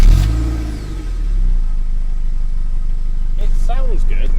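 A Mazda MX-5 NC1 starts up with the exhaust recorded close by: a starter crank, then the engine catches into a steady, low idle that holds evenly, with a person's voice coming in over it near the end.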